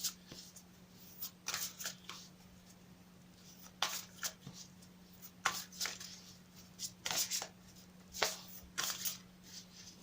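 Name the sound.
shuffling a deck of cards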